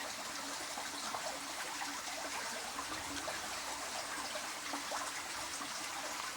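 Creek water fed from an upstream pond flows steadily nearby, a continuous broadband rush and trickle with no pauses or voices.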